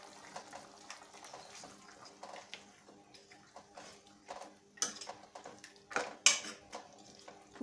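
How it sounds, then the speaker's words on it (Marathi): Green masala of coriander, green chillies and garlic being sautéed with mutton in a pot, with scattered scraping and clinking of a spoon against metal, quiet between sharper knocks. "हा मसाला यात परतून घेऊया"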